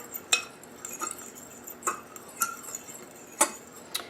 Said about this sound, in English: let's mix the flour mixture together